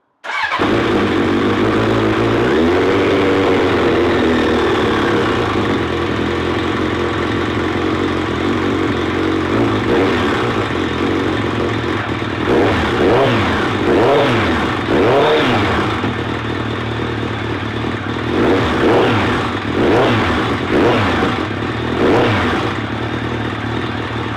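A classic Suzuki Bandit motorcycle engine fires up for the first time, settling into a loud, slightly hunting idle from carburettors needing balancing, then giving several quick blipped revs that rise and fall.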